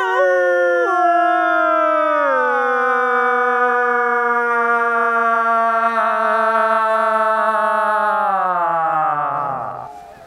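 A person imitates a wolf howl, one long sustained voiced howl that slides gradually downward in pitch over about ten seconds, loud and close, then fades out at the end.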